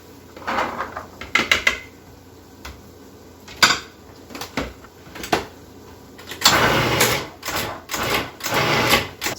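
Food processor pulsing to roughly chop black beans with chipotles, giving short bursts of whirring and rattling close by, then a longer continuous buzz, with clatter between the pulses.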